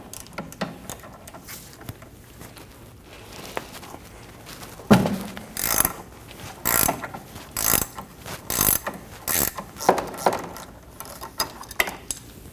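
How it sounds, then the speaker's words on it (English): A wrench ratchets a nut off the stud of a front sway bar link on a 2012-2022 Volkswagen Passat, giving rhythmic metallic clicking bursts, close up with brief pauses and no talking. "We'll hold the stud and remove the nut."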